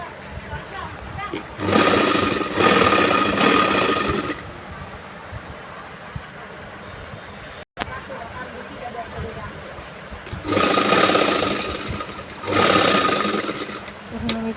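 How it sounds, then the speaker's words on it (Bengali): An electric sewing machine stitches fabric for a nightie in two loud, close runs of rapid whirring, with a person talking in the quieter stretch between them. "এখন দেখো আমি তাকে সেলাই করছি"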